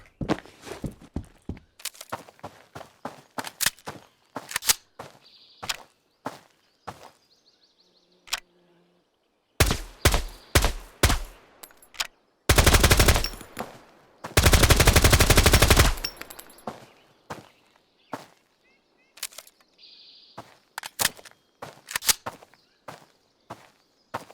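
MP5 fire in Road to Vostok, a survival shooter: many sharp single shots and short bursts spread across the stretch, with two sustained automatic bursts in the middle, close and loud over a quiet background.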